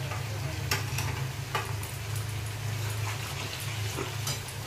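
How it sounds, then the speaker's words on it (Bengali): A pot of curry with freshly grated garlic just stirred in bubbles and sizzles steadily at close range, with occasional louder pops and a low continuous simmer throughout. "দেখুন আমার ঝোলটা ফুটে উঠেছে।"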